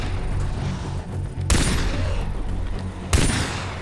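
Loud gunfire in the first-person shooter Far Cry 3, two sharp, booming shots about a second and a half apart with a reverberant tail, close and alone.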